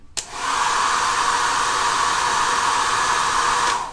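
A Nasjac folding 1800W hair dryer switches on and blows with a steady, loud, close airflow whoosh and motor hum for several seconds before cutting off, with no talking.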